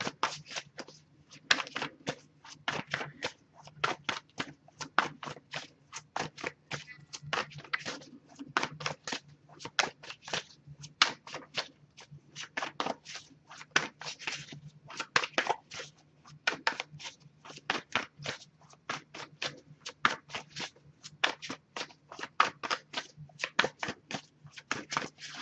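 Tarot cards are shuffled continuously, a rapid crisp riffling and flicking that repeats steadily in close, quiet bursts with no voices.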